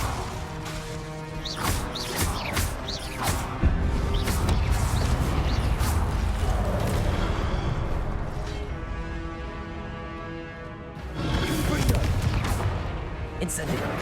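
Repeated Incendio fire spells cast in the wizarding game Hogwarts Legacy, a run of whooshing, crackling bursts amid a loud, busy battle, with a voice shouting over them.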